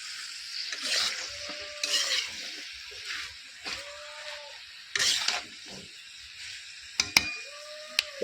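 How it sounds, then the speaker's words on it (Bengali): Pointed gourd (potol) frying in oil in a pan, repeated scraping and stirring strokes with a spatula over a faint sizzle, each stroke a short rasp at a steady, unhurried rhythm, close and fairly quiet, with a couple of sharp clicks near the end. "অনেক রকম পটল ভাজা, এটা আলাদা পটল ভাজা।"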